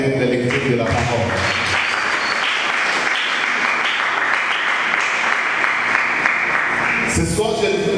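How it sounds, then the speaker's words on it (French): A wedding congregation breaks into sustained applause after the Bible reading. Dense clapping runs for several seconds, and a voice speaks briefly at the start and end. "Est-ce qu'on peut acclamer la lecture de la parole?"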